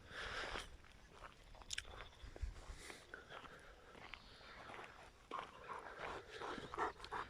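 A dog moving close by, with chewing or mouthing noises, soft panting and a brief whimper, fairly quiet with no talking.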